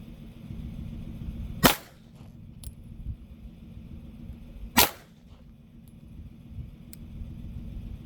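Two sharp Glock 48 handgun shots ring out at an outdoor shooting range, about three seconds apart, loud and close. Each crack trails a short echo over a low ambient rumble, with a faint click or two in between.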